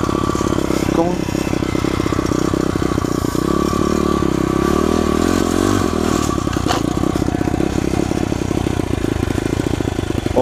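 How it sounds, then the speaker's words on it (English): An SSR 140 pit bike engine runs loud and close outdoors in slushy ice, its throttle turned so the buzzing engine note rises and falls steadily throughout, with mechanical clatter mixed in. "Turning the throttle"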